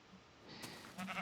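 A sheep bleats in Minecraft, a short, mid-pitched blocky game bleat arriving about halfway through and swelling louder near the end, with no talk over it.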